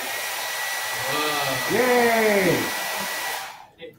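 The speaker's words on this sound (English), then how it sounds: "So I'm going to blow the hairdryer over this paper." A hair dryer blows over a sheet of paper in a physics lecture on Bernoulli's equation, with a steady whooshing hum that cuts off near the end, while a voice speaks and cheers over it.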